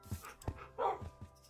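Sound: dogs barking in a kennel in the video game Minecraft

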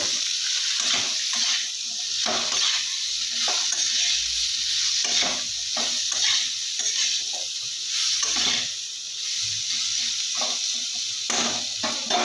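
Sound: spice masala frying and being stirred in a pan

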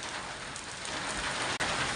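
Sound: heavy rain

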